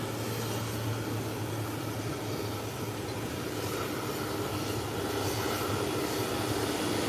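An airliner takes off at an airport and its engines give a steady, broad jet roar. The roar rumbles evenly for several seconds at a moderate distance, with no voices.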